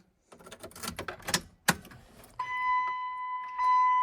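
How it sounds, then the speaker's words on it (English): Keys jangle and clink close by for about a second and a half before a vehicle's dash chime or ignition tone starts up with a steady electronic hum, in the cab of a truck with a brand-new 5.9 Cummins engine. "We got the keys right here."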